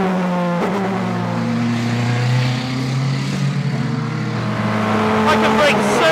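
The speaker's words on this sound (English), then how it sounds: "coming out of Redgate hard on the throttle, up into fourth, up into fifth" A Praga R1T EVO race car accelerates hard out of a corner on track, its loud engine note climbing steadily through successive upshifts from fourth into fifth, sustained and close throughout.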